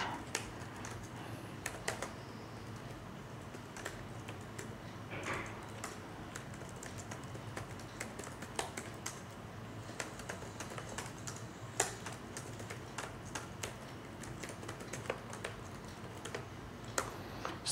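Someone types C++ code on a computer keyboard in a steady stream of soft key clicks. The clicking is quiet and runs without pause, with no one speaking.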